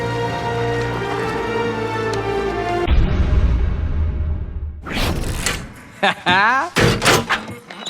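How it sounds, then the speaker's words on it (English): A heavy safe is forced open in the Western video game GUN: a metallic clunk and scraping creak cut through background music, followed by a few short, sharp bursts, with voices speaking alongside. "Soapy and I head over to crack open that dastardly safe"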